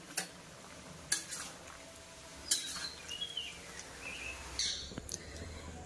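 A spoon stirs fried peanuts and a pre-fried spice mix into a soybean curry with pumpkin stems and potatoes, giving intermittent scraping clinks against the pan. Birds chirp faintly in the background.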